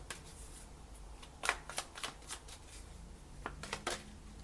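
Tarot cards being shuffled, a soft papery riffle with a few louder quick bursts of cards slapping together, close and quiet, with no talking.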